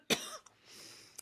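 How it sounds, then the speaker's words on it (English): A single sharp cough lands close to the microphone, followed by a breathy exhale and a faint click. "sorry, I still have a little cough."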